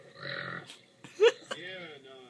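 A single loud, close burp erupts between bits of casual talk during a burp contest, short and guttural, with people speaking around it.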